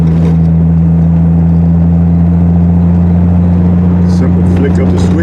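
A Triumph TR6 with an electric J-type overdrive cruises at steady speed with a loud, droning engine note. Road and wind noise sit underneath, and a few brief clicks come near the end as the overdrive engages.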